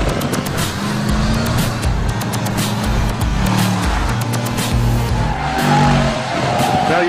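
Mercedes-Benz McLaren SLR Stirling Moss driven flat out at full power, a loud, close engine rising and falling through the gears, with tire squeal and some talk over it.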